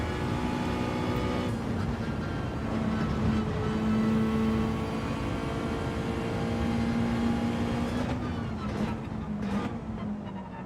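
A race car powers down a straight in Gran Turismo 7, its engine note climbing steadily and holding at high revs, loud and continuous with a shift near the end.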